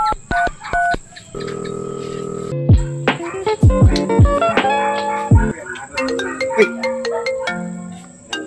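A mobile phone rings with an incoming call, playing a bright electronic melody of rapid beeping notes and chirps against a steady high tone, loud and close, with no voices over it.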